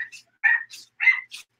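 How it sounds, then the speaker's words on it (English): A small dog gives two short, strained barks close by, each a breathy squeaky yap followed by a hiss-like exhale, with no talk over them. "It sounds like he's squeezing all the air out of his whole body every time he barks."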